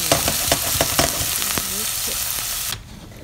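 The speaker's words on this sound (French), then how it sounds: "dans une casserole, je fais tuer mon oignon" Onion sizzling and sweating in a saucepan for a tomatillo salsa, a steady dense frying crackle with a few sharper pops and stirring scrapes, close and continuous before cutting off abruptly near the end.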